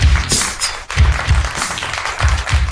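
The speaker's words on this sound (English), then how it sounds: "Let's give them a big, fat, Unsung Zeroes round of applause, shall we?" A small show audience claps for the guests, close and uneven bursts of hand claps with thumping accents and a few whoops, no talk over it.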